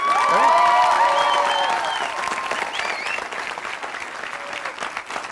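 Studio audience applause on an Argentine television show, loud and dense at first, then gradually thinning with some scattered shouts mixed into the clapping.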